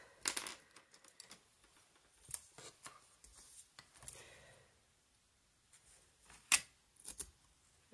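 Scissors snip through washi tape at a crafting desk, a few short crisp cuts among light paper handling and tapping, close and fairly quiet.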